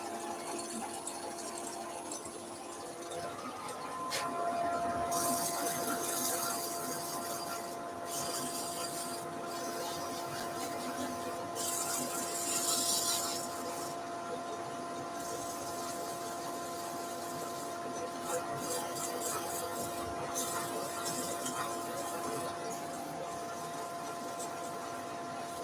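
A resin Banksia apple spins on a wood lathe under 150 grit sandpaper. A steady motor whine runs throughout, broken by several loud, rasping bursts of sanding hiss.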